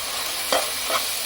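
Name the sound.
mutton frying and being stirred with spices in pan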